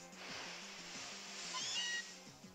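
Meowth's cry in Pokémon Moon, a short synthesized cat-like meow sounding alone over looping game background music.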